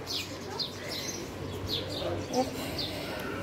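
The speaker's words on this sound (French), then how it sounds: "Et regardez-moi ces oiseaux." Birds at an Egyptian beach resort in Hurghada chirp repeatedly in short high tweets over a steady outdoor hiss, with a voice speaking softly in the background.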